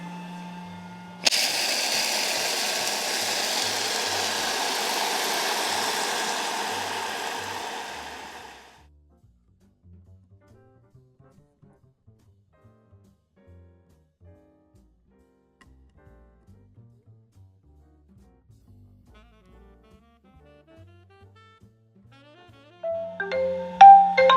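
A Tokit Omni Cook kitchen machine running while making sorbet, a loud whirring blend that starts abruptly and roars steadily for several seconds, then cuts off into near silence with faint clicks and beeps.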